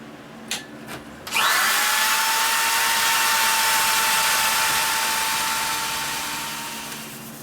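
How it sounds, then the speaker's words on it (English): Sanding a turned ficus wood vase spinning on a lathe: a loud, steady high-pitched whine with a broad rushing hiss that starts abruptly after a few brief knocks, then holds for several seconds and slowly fades. "Can sand it up a little bit right now."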